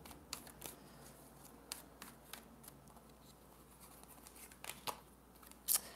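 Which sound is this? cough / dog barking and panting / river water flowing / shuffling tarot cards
shuffling tarot cards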